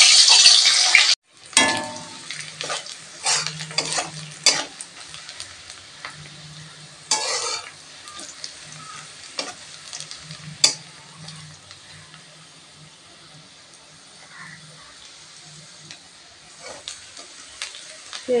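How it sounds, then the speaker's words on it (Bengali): Ginger, garlic and onion fry in hot oil in a wok, with a steady close sizzle broken by repeated scraping stirs and a few clinks of the spatula. There is no talk. "লাল লাল করে ভাজা হয়ে গিয়েছে"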